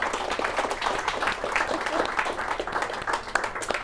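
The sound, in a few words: audience applause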